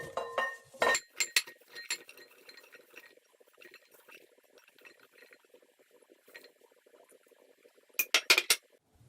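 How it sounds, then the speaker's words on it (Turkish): Quinces poured into a container sitting on a kitchen scale, giving a burst of knocking and clinking at the start, scattered light taps in the middle, and another cluster of sharp clatters near the end. "Şimdi de ayvaları içine döküyorum."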